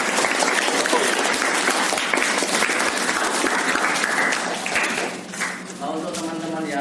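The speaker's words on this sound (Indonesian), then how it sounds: "Beri tepuk tangan sekali lagi." Loud, dense applause from a class audience thanking a student group that presented, steady clapping that fills the room for several seconds before tapering slightly, with a voice briefly heard at the end.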